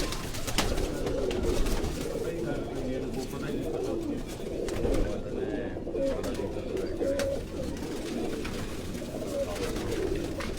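Caged pigeons belonging to a pigeon keeper in Quetta coo in low, overlapping murmurs close by, mixed with wing flutters and cage rattles, while people talk in the background.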